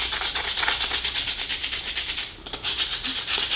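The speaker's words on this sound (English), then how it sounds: "Now, I would probably do a little more detailed sanding on this than I'm going to do in this video" Sandpaper rubs by hand over a small wooden scroll-saw cutout in quick, rhythmic back-and-forth strokes, close and steady, with a brief pause before resuming.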